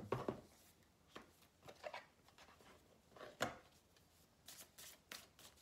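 Tarot and oracle cards drawn and handled at a reading, with a series of soft, close papery slides and flicks coming in irregular bursts and no talking over them.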